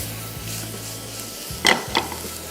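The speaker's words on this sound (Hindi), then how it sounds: "तो ऑयल गरम और इसमें सबसे पहले शामिल हो गया ये गार्लिक। थोड़ा सा इसको फ्राई किया," Garlic fries in hot oil with a soft continuous sizzle over a low hum, broken by two quick scraping stirs near the end.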